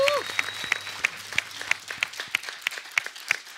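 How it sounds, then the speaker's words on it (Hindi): A studio audience on a Hindi comedy talk show claps loudly in a steady, rhythmic beat, the sharp strikes evenly spaced throughout, with voices present beneath. "एक बार मैं आप सबसे कहूंगा जोरदार तालियां इन लोगों के लिए।"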